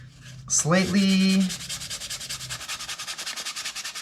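Sandpaper rubbed over the foam of a cosplay pauldron, with a loud squeak and scrape at first, then a rapid, even run of rhythmic rasping strokes close by.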